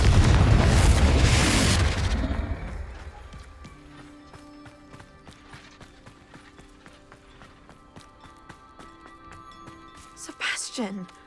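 The Confringo fire spell explodes in Hogwarts Legacy as a loud, broad blast lasting about two seconds. A quiet, steady game ambience follows, then a brief faint effect near the end.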